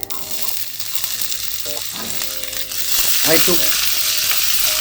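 Chopped onion dropped into hot oil with cumin seed, a loud steady sizzle that swells as the onion goes in, with a brief spoken word and faint clinks early on.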